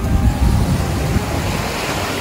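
Steady rumbling wash of surf on Nagahama beach in Higashi, northern Okinawa, loud and continuous, with wind noise buffeting the microphone.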